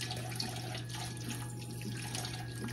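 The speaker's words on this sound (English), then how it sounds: "Excuse that water." A kitchen faucet runs in a steady, faint hiss of flowing water against a sink, continuous and even with no voices over it.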